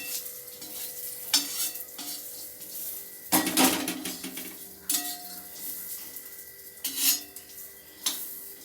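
Split chickpeas and peanuts roasting in a pan for poha chivda, with repeated scraping stirs and clinks of a spoon against the pan over a soft frying crackle.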